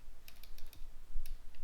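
Quick, light keystrokes on a computer keyboard typing a short word, a fast cluster of crisp clicks followed by a pause and a couple more taps, close and fairly quiet.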